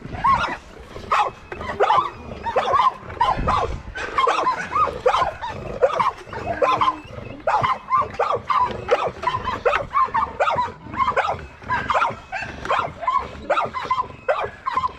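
Female dog in heat barking and yipping in rapid, repeated bursts throughout, close and loud, with occasional whimpers mixed in.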